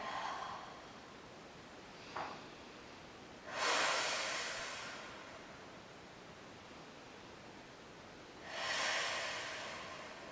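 Deep, slow breaths during a restorative yoga twist, heard as two long, airy exhales a few seconds apart over a steady hiss, with a faint short intake before the first.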